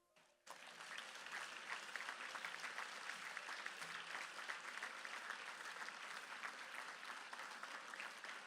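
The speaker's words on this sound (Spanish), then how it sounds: "per a les que demane un fort aplaudiment" An audience at the presentation of the 2024 Regina and Dames of the Almàssera falles festival bursts into strong applause that starts suddenly and holds as a dense, sustained clapping.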